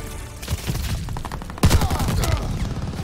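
Rapid bursts of gunfire in Call of Duty: Vanguard on the Paradise map, with steady shots building into a louder, denser volley partway through.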